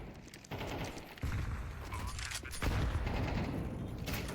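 Tech 9 pistol fire in a Counter-Strike 2 match: a few sharp shots in quick bursts over a busy backdrop of other gunfire and game noise.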